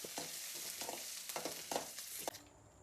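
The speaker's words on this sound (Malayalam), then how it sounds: "ഇച്ചിരി കറിവേപ്പിലയും കൂടെ വേണം അതിന് മൂപ്പിക്കാൻ" Curry leaves fry in hot oil in a pan with a soft, continuous sizzle, broken by several short scraping stirs, fairly faint and with no talking.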